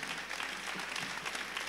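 Applause from a concert audience at a folk ensemble performance, a steady dense patter of many hands clapping throughout, moderately loud and continuous with no voices standing out.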